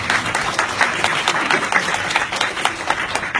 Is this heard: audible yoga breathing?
no